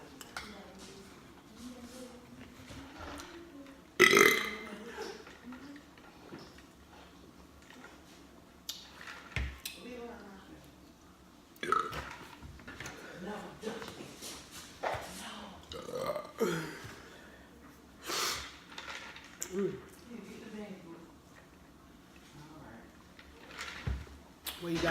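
Several loud, close burps after eating Little Caesars stuffed crust pizza, scattered over a quiet room with faint clinks of dishes and cutlery and some light movement between them.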